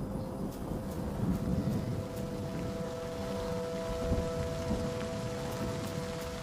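Steady rain falls during a wet-season thunderstorm on the wildebeest migration plains, a soft, even hiss of drops with a low rumbling underneath, fairly faint and constant, with no voices.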